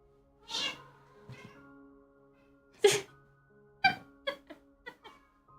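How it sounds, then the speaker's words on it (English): A house cat lets out several close meows and chirps in quick succession, with a sneeze-like burst early on, fairly quiet against a hushed room. "she ran away and now she meowed"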